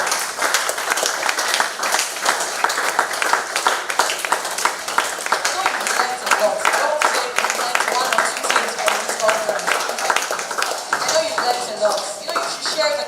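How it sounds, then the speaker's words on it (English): Sustained audience applause at an artificial intelligence technology conference, dense steady clapping from many hands filling the room for the full stretch with no break, loud and close. "Please keep clapping for them."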